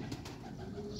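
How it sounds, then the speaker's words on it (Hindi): A female pigeon of a Chaudhari-line breeding strain gives a soft, low coo close by, steady over a brief moment with faint background noise. "जैनमन चौधरी साहब वाली कबूतरी है ये"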